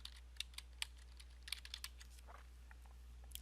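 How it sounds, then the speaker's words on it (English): Quiet typing on a computer keyboard during an online classroom lesson, with irregular light clicks and small bursts of keystrokes over a steady low hum. "So I typed in last name, first name for you"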